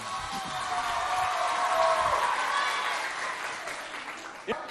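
A school audience at a provincial contest claps steadily for several seconds at moderate distance, ending in a single sharper knock.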